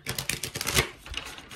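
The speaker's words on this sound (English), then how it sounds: "I'm going to shuffle one more time." Quick, crisp riffling of playing cards, a dense burst of light clicks building to a peak, then a few softer taps, close by with no talking.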